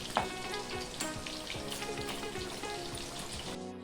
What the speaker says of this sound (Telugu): డీప్ ఫ్రైకి ఆయిల్ పెట్టుకొని ఆయిల్ వేడెక్కాక ఇందులోకి చికెన్ ముక్కలు వేసి ఫ్రై చేసుకోవాలి